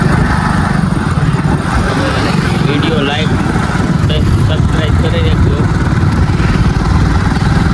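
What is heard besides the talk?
motorcycle riding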